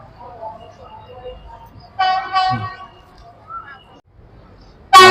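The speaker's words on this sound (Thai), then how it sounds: "รถไฟมาพอดีครับ" A train arriving at the Khlong Tan railway market sounds a brief, loud, tonal horn blast amid a low rumble, with voices nearby and another sharp burst at the end.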